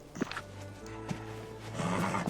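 A horse in the video game Dreamlight Valley snorts and whinnies in short bursts over a steady game music backdrop, with a few soft thuds and no talking.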